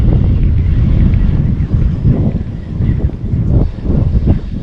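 Wind gusts outdoors during river fishing, buffeting the microphone with loud, rumbling, uneven blasts throughout.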